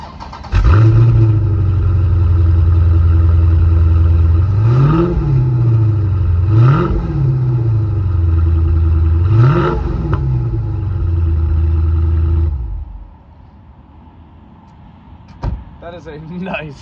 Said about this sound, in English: I did just wanna start the engine up for you real quick, just to show you how it sounds